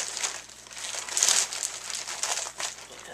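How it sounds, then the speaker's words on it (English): Crinkly plastic bags being handled and pulled open during an unboxing, with bursts of crackling and rustling that swell and fade, one louder crinkle in the middle, close by with no talking. "these plastic bags are so hard to open."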